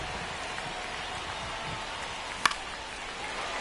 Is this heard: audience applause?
no